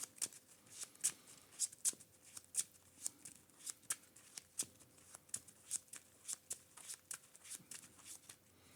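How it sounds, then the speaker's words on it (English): A deck of game cards is shuffled over and over at close range, about twenty crisp riffles in steady rhythm across nine seconds. The sound is quiet and alone, with no talk. "All right, shuffle this up."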